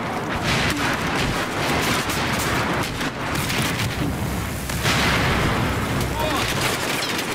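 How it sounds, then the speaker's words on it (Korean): Gunfire and explosions from the first-person shooter Battlefield 4, heard through a G936 camo edition gaming headset: dense, continuous battle noise with rapid shots and booming blasts, loud throughout, with some speech mixed in. "일단 총성과 발자국 소리가"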